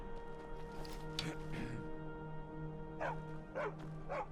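A dog in Skyrim barks in a few short yelps, two early and then a quick cluster near the end, over a steady hum of game ambience, moderately faint with no talk.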